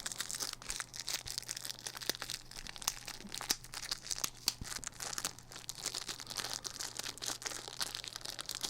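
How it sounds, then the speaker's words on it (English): A plastic-wrapped part from a Star Trek Deep Space Station K-7 model kit is unwrapped close up, giving soft, continuous crinkling and crackling with scattered sharper snaps throughout. "Let's unwrap this."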